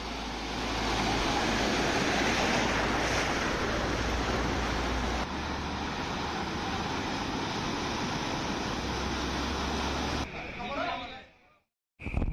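Floodwater gushing over the steps of the Dwarkadhish temple in Dwarka after heavy rainfall: a loud, unbroken roaring rush of water that holds steady for about ten seconds, then thins and briefly cuts out near the end.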